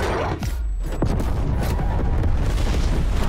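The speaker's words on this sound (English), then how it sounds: "Napalm strike incoming." A napalm strike in the video game Call of Duty: Black Ops Cold War, a loud booming explosion that swells into a sustained roaring rumble of fire, close and continuous throughout.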